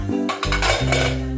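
A metal pressure cooker for cooking moong dal is picked up in a home kitchen, giving a short clank and rattle of cookware, close and fairly loud.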